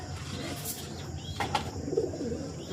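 Pigeons coo softly inside a tin-roofed loft at night, with faint, low calls and some light rustling close by.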